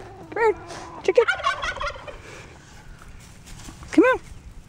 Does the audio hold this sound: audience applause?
no